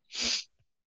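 A single close, loud human sneeze, a sharp burst of breath that cuts off quickly, followed by a faint short sniff.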